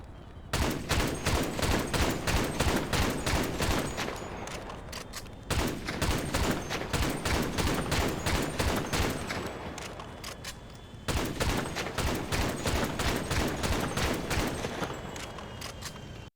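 Sharp sniper rifle shots from GTA beta sound effects fire in quick, evenly spaced volleys, three bursts separated by brief pauses, crisp and loud with no talking.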